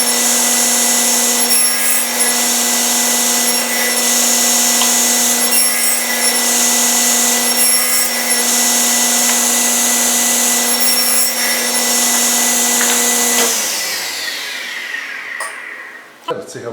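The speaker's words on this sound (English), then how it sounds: "we're going to make the second cut of our dado" A table saw blade cuts the second pass of a wood dado, a steady loud whine with faint rhythmic pulsing for about thirteen seconds before spinning down and fading.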